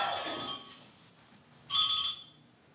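A cell phone ringtone sounds at a public candidates' meeting, with a brief tone at the start and a second clear burst about a second later, fairly faint in a quiet room.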